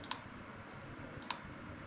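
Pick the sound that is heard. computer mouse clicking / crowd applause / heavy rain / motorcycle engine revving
computer mouse clicking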